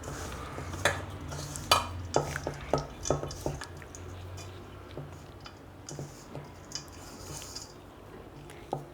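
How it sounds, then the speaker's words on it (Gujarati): Garlic, oil and spice masala stuffing for bitter gourd is mixed by hand in a bowl, with soft squishes and scattered light taps and clicks close by in a quiet kitchen. "આપણે એના હાથેથી સરખું મિક્સ કરી દઈશું"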